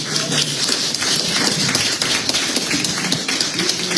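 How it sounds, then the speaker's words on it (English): An audience at a bar association panel discussion applauds with steady, dense clapping that holds at an even level from start to finish. "Can we please give them a round of applause?"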